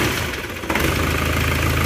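An Isuzu Panther diesel engine rebuilt with cast cylinder liners catches and settles into a loud, steady, rough idle with a continuous low rumble. The exhaust flex pipe is leaking.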